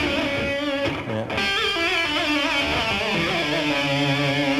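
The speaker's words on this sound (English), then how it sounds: "It's just where you just play a note and then pull up" Electric guitar notes bend sharply upward with the whammy bar and then drop back, in an abrupt Arabian-style pull-up and release, clear and loud, with no talking.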